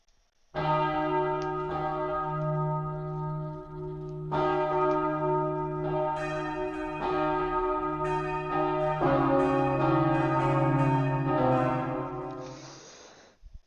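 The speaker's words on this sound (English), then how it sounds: "the bell rang to signal the end of class" Sustained bell-like chime ringing out over a steady tonal backdrop, a school bell marking the end of class, several strikes recurring loudly and evenly for over ten seconds with no talk.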